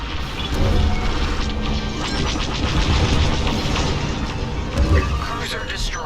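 A capital-ship cruiser blows apart in Star Wars: Squadrons, a dense, loud run of crashing booms and metallic debris impacts rolling on for several seconds with a couple of heavier swells.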